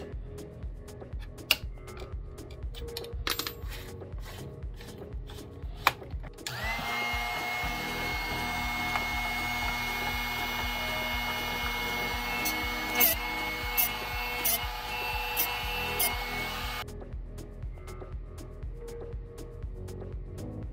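Light tapping and clicking give way to a steady high whirring grind for about ten seconds as a drill bit sharpener regrinds a broken drill bit tip, then stop, followed by more faint handling clicks.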